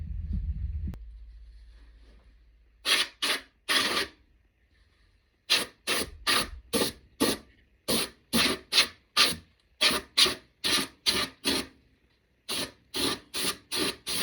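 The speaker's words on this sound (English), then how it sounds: "we're going to take this can of compressed air. We're going to blow this out" A can of compressed air blows dust out of a home furnace in quick, sharp hissing bursts, close and loud, firing in irregular clusters separated by short silences.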